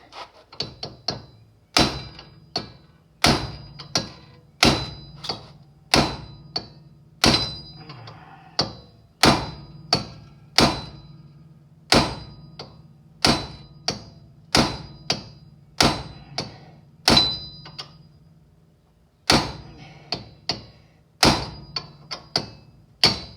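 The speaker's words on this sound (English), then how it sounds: "put this chisel in behind there and give it a little space" Steel chisel hammered behind a wheel bearing on a 2012 Toyota RAV4, about thirty sharp metallic strikes in a steady, irregular rhythm, loud and close, with no talking.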